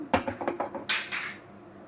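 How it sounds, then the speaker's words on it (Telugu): A metal kadai set onto a gas stove with a series of close clanks and knocks, about six sharp metallic hits in quick succession followed by a louder clatter and a fading ring, no voices. "బచ్చల కూర పచ్చడికి కళాయి పెట్టేసుకుందాం."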